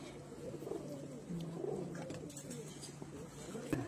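Soft pigeon coos repeat over a steady murmur of background noise, with occasional faint rustles and clicks nearby.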